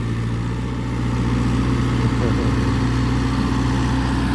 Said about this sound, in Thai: มาดูรถไถครับ